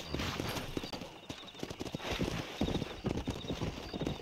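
Horse hooves clip-clop at a galloping pace in the Western video game Red Dead Redemption, a loud rhythmic run of hoofbeats, close and continuous, with no talk over it.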